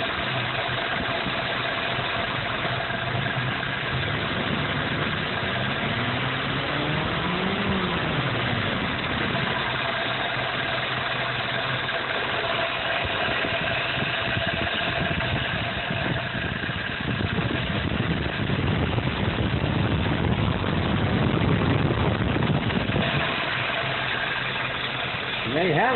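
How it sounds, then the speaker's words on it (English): A car engine idles steadily at about 650 rpm, a low continuous hum with a faint rise and fall, running under a voice throughout. "Idling right around 650."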